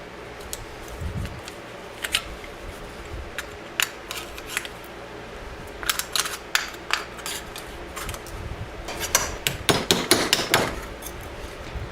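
Sharp metallic hammer blows ring out, some single and some in quick bursts, striking thin metal close by against a low hum.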